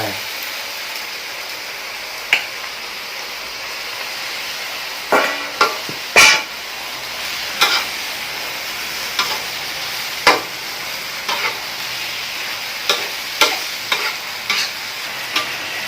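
Blanched kuay jab noodles being stir-fried in a wok for pad see ew, with a steady sizzle broken by repeated sharp scrapes and clanks of a spatula against the pan, heard close and alone.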